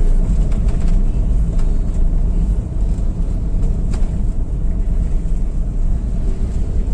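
An older Daihatsu Xenia running in fifth gear at low revs, a steady low engine drone from inside the car, constant and moderately loud with road and wind noise.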